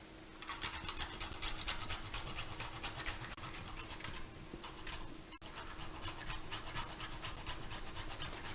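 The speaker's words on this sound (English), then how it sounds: "we're gonna grate some nutmeg" Whole nutmeg is grated by hand in a kitchen while making Jamaican chocolate tea, a faint, steady run of quick rasping strokes over a low background hum.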